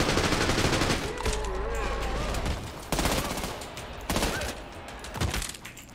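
Automatic weapon fire in the video game Trepang 2: loud, dense bursts of rapid gunshots, nearly continuous with short breaks, while someone talks briefly over them.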